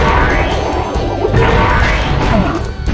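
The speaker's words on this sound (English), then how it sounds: "How good is the sound effect from the shockwave?" A boss-fight shockwave in the Spyro 2 video game hits as a loud, heavy crashing boom with a rushing, rumbling body that stays dense and sustained for about three seconds.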